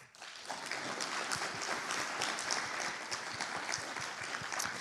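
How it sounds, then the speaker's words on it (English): Sustained applause from an audience welcoming a poet and speaker at an event, a dense, even wash of clapping from many hands that holds steady throughout. "Clap them all the way up, clap them all the way up."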